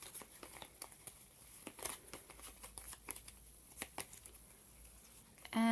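A deck of playing cards is shuffled by hand, giving quiet, close riffling and flicking bursts in an irregular rhythm with soft crinkling between them.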